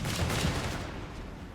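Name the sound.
flak half-track firing in Company of Heroes 3 video game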